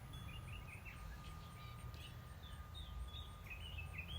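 Small chirps and tweets from hummingbirds in a backyard, heard in late season, scattered and faint over a steady low outdoor rumble with a constant high tone.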